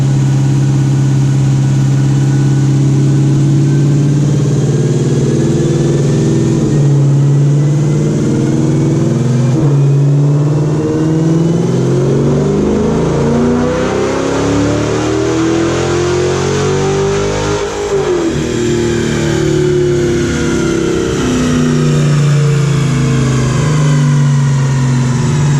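A Dodge Charger R/T with full bolt-ons, a cam and a dyno-tuned E85 setup idles with a lumpy rumble, then revs up in rising sweeps and falls back, loud and close throughout.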